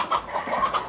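Chickens in a coop give a few short, close clucks in quick succession, with nobody talking.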